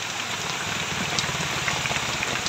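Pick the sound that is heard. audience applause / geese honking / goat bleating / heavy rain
heavy rain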